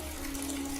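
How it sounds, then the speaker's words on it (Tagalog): Water gushing steadily from a bathroom tap, a constant close hiss with a faint hum beneath, no voices. "biglang nakarinig kami ng may nagbukas ng tubig sa CR"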